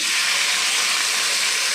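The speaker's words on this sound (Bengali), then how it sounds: "দিয়ে দেবো হিং, এইগুলি আগে ভেজে নেব।" Asafoetida and whole spices frying in hot oil, a steady close hiss of sizzling that runs evenly throughout with no break.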